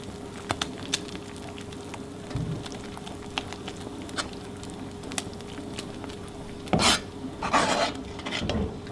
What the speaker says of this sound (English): So I'm just going to use a spoon and get all this cheese mixed in here.